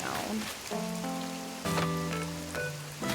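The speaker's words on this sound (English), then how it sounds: "this rain here, like the rain in the game" Rain in Animal Crossing: New Horizons patters as a steady soft hiss, with light melodic game music and occasional footsteps and effects over it.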